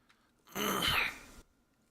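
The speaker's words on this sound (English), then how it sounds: "Sorry, I didn't mean to clear my throat." A single short throat clearing from a man at a microphone during a card game stream, a brief rough burst lasting under a second, fairly close and alone against quiet.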